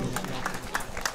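Small gathering at a marriage proposal clapping, a brief burst of quick, moderately loud claps with a few people faintly audible in the background.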